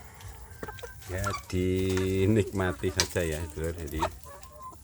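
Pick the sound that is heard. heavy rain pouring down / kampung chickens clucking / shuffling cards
kampung chickens clucking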